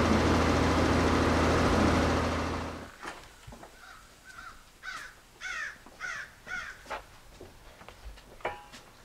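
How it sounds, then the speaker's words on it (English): Loud engine rumble cuts off, then several crows caw repeatedly around a freshly filled bird feeder, harsh calls in irregular bursts, some near and some farther off. "Crows are going crazy because they just put feed down in the bird feeder."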